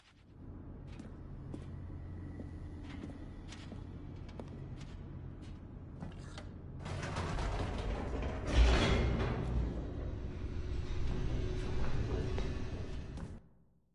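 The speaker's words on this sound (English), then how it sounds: "The elevator raced downward, plummeting towards an unknown fate." Elevator in the video game The Stanley Parable descending: a steady low mechanical rumble with a few clicks, swelling louder midway with a rushing, rattling whoosh before cutting off abruptly.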